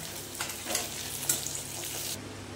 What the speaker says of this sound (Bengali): এখানে মাছটা ভাজা হয়ে গেছে, এবারে একে একে তেল ঝরিয়ে তুলে নেব।